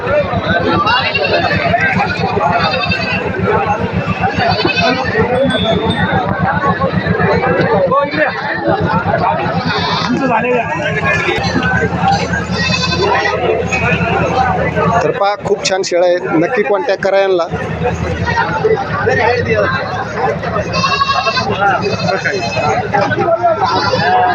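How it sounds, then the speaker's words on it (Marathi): Goats bleat amid loud, continuous chatter at a busy livestock market in Shirur taluka, Pune district, Maharashtra, with bleats rising over a crowded din and people talking close by. "हा इकडं पण चांगल्या सुंदर शेळ्या आहेत"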